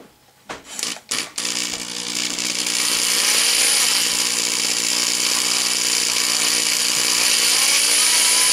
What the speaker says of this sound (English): let me put the drill back on here